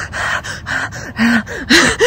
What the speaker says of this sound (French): je sens que je suis essoufflée